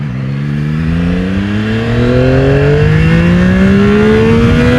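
A 2025 Yamaha R9 sport motorcycle pulls hard under acceleration, its engine note climbing steadily through rising revs with quick-shifter gear changes, loud and close throughout with no talk.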